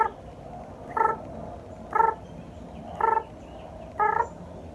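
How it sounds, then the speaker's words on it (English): Chirping said to come from a cricket rubbing its legs together, heard as four evenly spaced, buzzy pulsed chirps about one second apart over a low background hum, with no talking. "Cricket."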